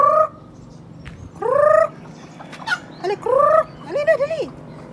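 Turkey-like gobbling calls from barnyard fowl, a chicken caught by a dog: several separate harmonic bursts, loud and close, over a low steady background hum.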